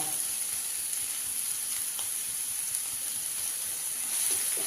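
Chopped medium onion sizzles steadily in a hot pan while being sautéed, a constant bright hiss with faint stirring clicks, close and continuous, no voices.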